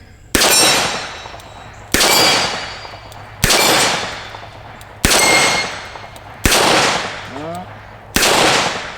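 A Smith and Wesson 686+ revolver fires six loud, close shots, each spaced roughly one and a half seconds apart, and every report rings out with a sharp crack and a lingering decay.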